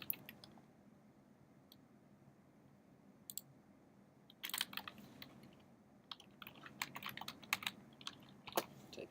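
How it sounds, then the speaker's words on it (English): Someone types a password on a Mac computer keyboard, producing sparse quiet key clicks that turn into a faster, busier burst of taps partway through, close and soft against a faint room hum. "Type in our password."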